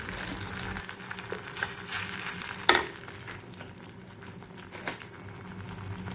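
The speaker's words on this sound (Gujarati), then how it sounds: "ટમેટાની પ્યુરીને મારું તેલ થોડું થોડું ગરમ થઈ ગયું છે આપણે એડ કરી દઈએ" Tomato puree tipped into hot oil, sizzling and spattering steadily while a spoon stirs, with one sharp metallic clink partway through; close and fairly quiet, no talking.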